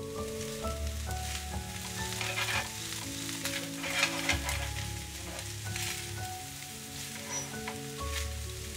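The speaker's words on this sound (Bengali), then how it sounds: "চিংড়ি মাছ, ডিম সব কিছুর সাথে ভালো করে মিশিয়ে নেব।" Shrimp fried rice with egg, spices and spring onion being stirred in a hot pan: steady close sizzling and frying with scraping stir strokes, while soft background music plays throughout.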